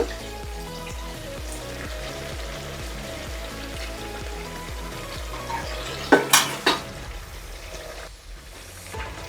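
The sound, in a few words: stirring curd into chicken pulao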